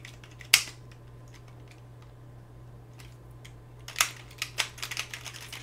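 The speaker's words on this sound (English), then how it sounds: "You're gonna break my freaking keyboard, man." Fast typing on a computer keyboard while playing Roblox Track & Field: Infinite comes in short clattering bursts of keystrokes, loudest at the start and near the end, over a steady low electrical hum.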